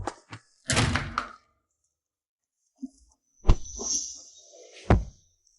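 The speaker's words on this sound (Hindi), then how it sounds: "जल्दी दरवाजा खोलो" A door handled in a Hindi-dubbed drama about a woman working for her ex, several separate thumps and knocks with a sliding rattle and a later clunk between quiet gaps, no talk.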